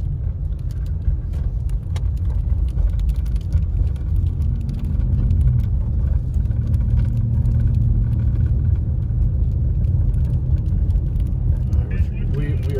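Car driving over a dam during a snowstorm, a steady loud low engine and road rumble from inside the cabin, with a voice talking over it.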